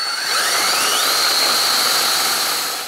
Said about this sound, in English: you're gonna have to drill this hole out to 8 millimeters or 5/16